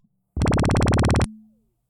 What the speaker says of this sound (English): I could put them into high pass mode, and it sounds like this.